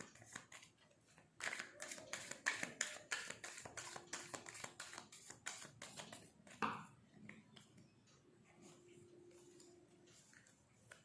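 Tarot cards shuffled by hand, a quick run of close, crisp riffling taps and flicks, then a sharp slap as the deck slips, with quieter handling sounds trailing off and a faint voice at times.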